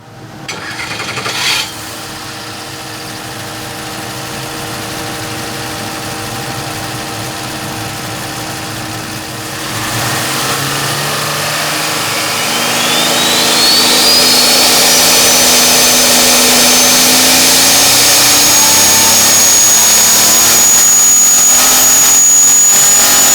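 A turbocharged Jeep R&D engine runs on a dyno, droning steadily before rising through a long pull with climbing turbo whine, loud and close.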